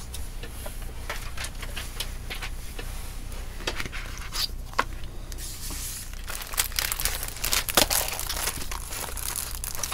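Peeled-off backing paper scraps from a mini-album wrapping project get crumpled up close. The crinkling rustle is steady and grows busier and louder toward the end, with no one talking.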